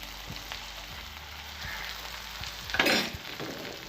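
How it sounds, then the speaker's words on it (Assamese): Tomatoes with salt and turmeric sizzle in oil for an Assamese fish gravy, a steady close crackle with soft scraping stirs and one louder burst near the end. "এতিয়া এইখিনি মই গোটেইখিনি ভাজি ল'ম যেতিয়ালৈকে বিলাহীখিনি গলি নাযায়"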